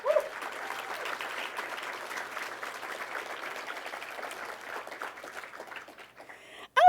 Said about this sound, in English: I am so happy that we're applauding as soon as we hear the colleges and the award